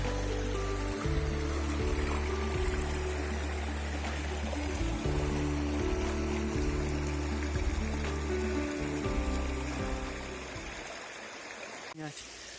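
Mountain river in the Carpathians flowing continuously close by, a steady rushing stream with some talking over it, dropping away near the end.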